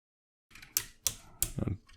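Plastic parts of a Transformers Legacy Evolution Armada Optimus Prime figure snap into place, three crisp close clicks about a third of a second apart, followed by a softer rattle of handling.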